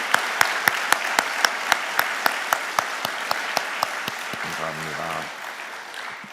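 A church congregation gives a round of applause during a Thanksgiving dawn prayer service, a series of slow, unison claps in steady rhythm, with a brief spoken word near the end.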